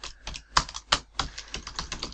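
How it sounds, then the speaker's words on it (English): Fast, uneven keystrokes on a computer keyboard while C++ code is entered, a dense run of sharp clicks close to the microphone with no one speaking. "I'm having a lot of trouble typing."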